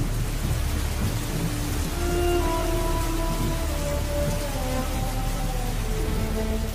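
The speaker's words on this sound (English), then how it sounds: "it pours. In some areas, hundreds of inches of rain can fall during the season." Heavy monsoon rain pours steadily over the Himalayas, a dense continuous hiss that stays loud throughout, with faint tonal sounds drifting above it.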